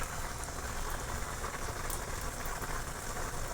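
Almonds frying in hot ghee for a sweet potato kheer, a dense, even sizzle and crackle that holds steady and close throughout, with no voices.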